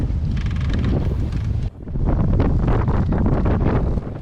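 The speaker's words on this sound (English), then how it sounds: "That's a serious wind since we got here, and it's really blowing about 25-30 knots at the moment." Strong gusting wind of about 25-30 knots buffets a sailboat at a mooring in Old Grimsby Sound, Isles of Scilly, a loud continuous roar and rumble on the microphone with a brief drop partway through.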